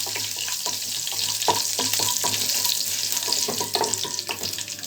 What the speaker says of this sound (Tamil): எண்ணெய் காயட்டும் கடுகு வரமிளகா கருவேப்பிலை போட்டிருக்கேன் தேங்காய் இது வந்து நல்லா பொறிஞ்சு வரட்டும்